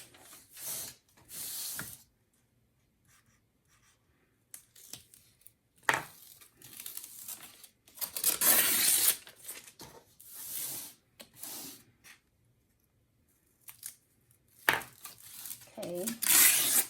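Sticky embroidery stabilizer is torn off and pulled from a hoop on an SE1900 embroidery machine. Several rough ripping and crinkling bursts come in short separate spells, with near-silent gaps between them.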